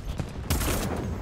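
Gunfire in the video game Starship Troopers: Extermination, played on hard mode: a sustained burst of loud, rapid shots, with a brief pop before a dense continuous volley.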